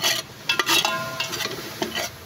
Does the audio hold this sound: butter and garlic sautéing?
yes